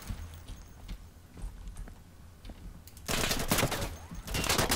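Gunfire in the tactical shooter game Insurgency: scattered shots and faint movement at first, then a loud, dense burst of rapid shots that keeps going near the end.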